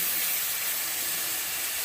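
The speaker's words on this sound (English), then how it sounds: "we're going to go ahead and brown off this meat" Steak and bacon browning in a hot pan, a steady bright sizzle and hiss heard up close with no talking.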